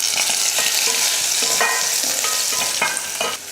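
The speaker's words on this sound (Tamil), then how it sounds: "எண்ணெய் காஞ்சதுமே கொஞ்சம் கடுகு, ஒரு 5 பல் பூண்டு இடிச்சிருக்கேன், அதையே சேர்த்துட்டு அது கூடவே கொஞ்சம் கருவேப்பிலையும் சேர்த்துடலாம்." Mustard seeds, crushed garlic and curry leaves sizzle steadily in hot oil, a close, loud, continuous frying crackle with a few stirring scrapes and pops, no talk.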